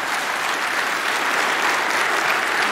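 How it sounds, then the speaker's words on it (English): A conference audience at 37C3 gives a loud, dense, continuous round of applause welcoming a speaker before a talk on fuzzing the TCP/IP stack, close and unbroken, with no voices over it. "Please give him a warm round of applause."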